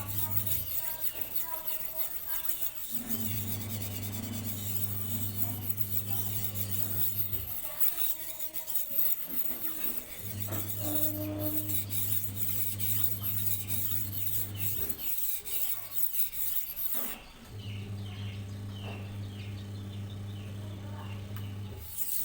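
A steel machete blade is sharpened on a sharpening stone, with repeated rasping strokes that come in long runs separated by short pauses. A steady low hum sits underneath throughout.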